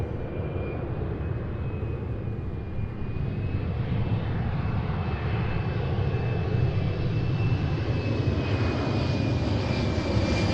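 A Southwest jet airliner lands on runway 34 left, its engines producing a steady, broad roar with a faint high whine that stays constant and fairly distant throughout.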